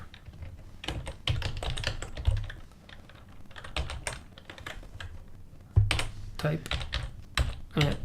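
Code is typed on a computer keyboard in quick bursts of close, clattering keystrokes, pausing briefly between runs, with occasional heavier key thumps.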